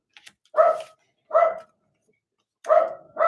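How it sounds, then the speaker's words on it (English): A dog barks four times outdoors, sharp single woofs spaced roughly a second apart with a longer gap before the last two, moderately close and clear with no talk over it. "There's probably just a bird sitting in the tree that the dog is barking at."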